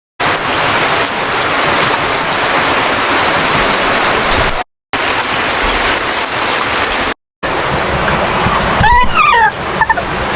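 Heavy rain pours steadily outdoors as a dense, loud, continuous hiss, with brief cuts and a faint mechanical chirping near the end.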